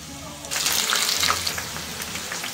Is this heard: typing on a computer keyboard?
no